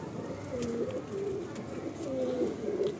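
Pigeons in a loft give several soft, rolling coos in a gentle repeating rhythm, fairly faint against quiet room noise.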